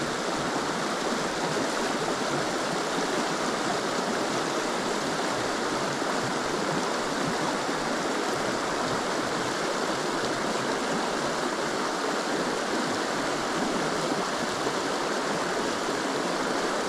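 Fast-flowing wild stream in Patagonia, Chile, its water rushing in a constant, dense hiss that stays even and loud from start to finish, with no voices.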